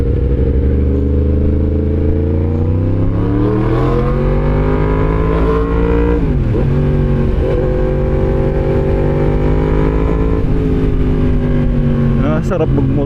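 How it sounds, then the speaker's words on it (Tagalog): A Yamaha MT-10 motorcycle engine while riding, its note rising and falling through the revs, loud and close with wind rush throughout. "Sarap magmotor. Masarap gamitin sa MT-10."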